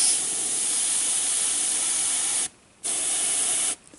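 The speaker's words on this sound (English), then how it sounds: "So in fact, I'll just do it on the glove so you can see." An airbrush sprays paint onto a glove, a close, steady hiss that cuts out briefly twice as the trigger is released and then resumes.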